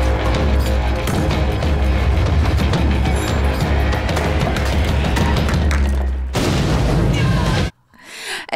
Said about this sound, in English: There are a lot of explosions happening in New York City right now.